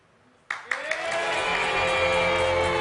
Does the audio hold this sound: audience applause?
yes